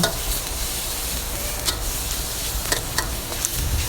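Pork and chili stir-fried together for basil pork give a loud, continuous sizzle, with occasional scrapes and taps of a utensil against the pan.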